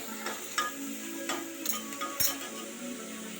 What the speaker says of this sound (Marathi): हे तेवढेच टामॅटो आहेत जेवढे कांदा घेतले तेवढेच टॉमॅटो बारीक करून घेतले आहेत मी आता हे थोडा वेळ परतवायचे